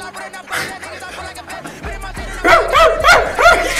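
Dog barks set into a music track, a run of short rhythmic barks and yips that grow louder and denser over a deep bass beat.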